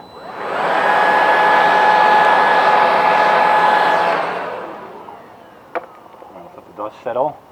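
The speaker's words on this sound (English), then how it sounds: "Time for the handy dandy leaf blower once again." A leaf blower runs loud and steady for about four seconds, blasting dust off a post light base mid-installation, then cuts out; the motor winds down and a few faint clicks and handling noises follow.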